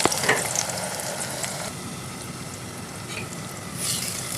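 Two large onions fry in hot oil for a Pakistani chicken tinda curry, giving a steady, close sizzle with a few brief stirring sounds and no speech.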